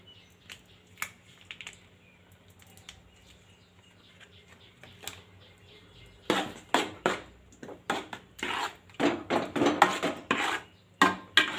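Mango halwa is stirred with ghee in a pan, a quiet start of faint scraping that turns into a rapid, repeated metallic scrape-and-clatter of a spoon against the pan, close and fairly loud.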